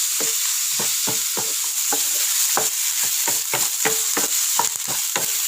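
Chicken thoran frying in a pan with ginger garlic paste, onion and coconut, a steady sizzle broken by regular scraping stirs of a spoon, close and clear.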